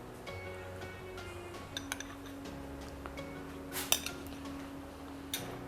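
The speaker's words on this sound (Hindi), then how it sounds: "इन सबको अच्छी तरह से मिला लेंगे" Spoon stirring tomato ketchup and mayonnaise into a chicken sandwich filling in a bowl: soft scattered clinks and taps against the dish over a low kitchen hum, with a couple of sharper knocks, no talking.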